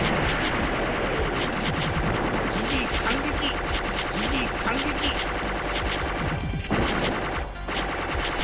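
Dense, continuous gunfire and explosive crashes from the PS1 shooter game Sengoku Blade, loud and rapid-fire throughout with bursts layered over busy game music.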